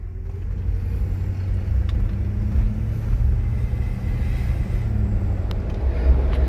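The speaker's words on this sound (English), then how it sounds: "Let's continue on with this test drive." A 1999–2004 Jeep Grand Cherokee WJ out on a test drive after rear brake and parking brake service, with a steady, loud low road and engine rumble that carries on throughout, unbroken and with no talk.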